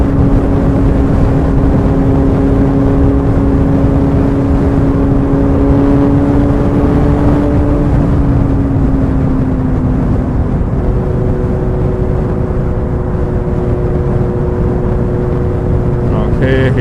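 A Suzuki GSR750 motorcycle with a Yoshimura R11 exhaust, baffle removed, rides at night with a loud, steady engine drone. The pitch holds, dips briefly and then settles again, with heavy wind rush throughout.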